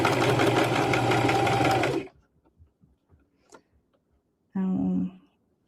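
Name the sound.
sewing machine stitching a back tack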